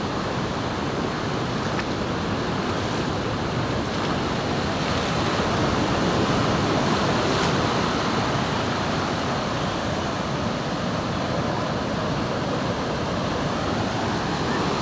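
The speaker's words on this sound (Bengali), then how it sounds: "এই যে ঢেউগুলো একদম পায়ে এসে আছড়ে পড়ছে" Sea waves breaking onto Kuakata beach on a morning shore make a loud, continuous roar of surf, with wind buffeting the microphone and no voices.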